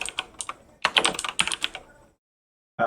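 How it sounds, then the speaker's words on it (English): Rapid, uneven clatter of fingers typing fast on a computer keyboard, with bursts of keystrokes, a brief pause, then a sharp flurry resuming at the end. "Look how fast I'm typing."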